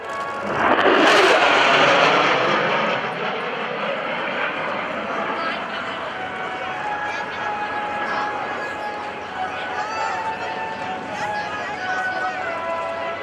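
A QF-4 Phantom jet sweeps past at an airshow at NAS Oceana, its roar surging loudly at first then settling into a long, steady whine as it recedes, with an announcer talking over it.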